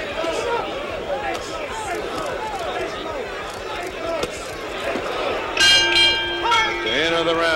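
Boxing ring bell at the end of a round in the 1976 Muhammad Ali vs Ken Norton heavyweight fight, ringing out with bright sustained tones over a loud arena crowd and ringside commentary.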